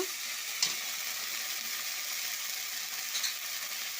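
Spice paste sizzles and fries steadily in a pan while a taro curry is cooked in a village kitchen, a continuous soft hiss with a few faint clicks of stirring and no talking.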